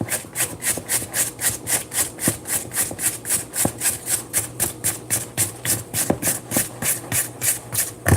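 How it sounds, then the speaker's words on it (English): A spatula scrapes around the sides of a mixing bowl of cake batter in a steady back-and-forth rhythm of close, rasping strokes, with occasional light taps against the bowl. "I'm going to scrape down the sides."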